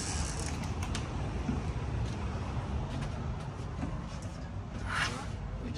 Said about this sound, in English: We just hit the compressor.